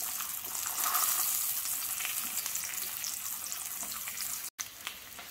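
Aubergines fry in a pan with a steady, bright sizzling hiss close by. It cuts out briefly near the end and then resumes more softly, with no talking.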